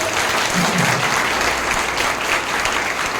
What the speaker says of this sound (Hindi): तो इन बच्चों के लिए थैंकफुल ताली बजाइए